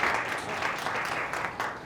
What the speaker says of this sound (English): It's not every day I get applause at a press conference